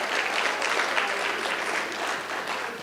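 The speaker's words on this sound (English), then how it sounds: "Can you please give yourselves a round of applause?" An audience at an energy conference gives a round of applause, a dense, steady clapping that fills the room for a few seconds.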